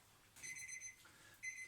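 A workout interval timer beeps in a quiet room during an exercise class for older adults, sounding two faint, high electronic tones with a short pause between them.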